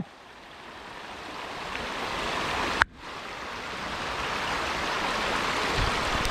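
Water of Kacharam waterfall in Kanthalloor rushes powerfully in a steady, loud broadband roar, with a brief break near the middle before the flow resumes unchanged.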